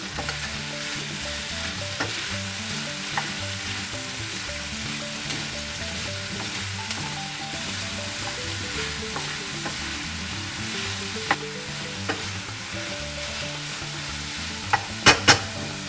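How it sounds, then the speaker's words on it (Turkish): Onions, peppers and mushrooms sauté in a hot pan for a quesadilla filling, giving a steady, close sizzle throughout with occasional sharp clicks from stirring near the end; no voices. "Soğanları ve biberleri biraz soteledikten sonra da mantarları ekleyeceğim."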